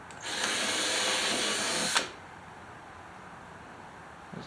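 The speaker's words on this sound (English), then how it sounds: "pre-drill some holes here." A power drill bores pilot holes into the wood of a homemade bookshelf, running in one steady, loud whirring burst of about two seconds before stopping abruptly, with no talking.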